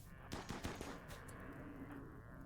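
Colonists open fire in the video game Rimworld, letting off a quick, faint burst of rapid gunshots followed by a short tail of quieter pops.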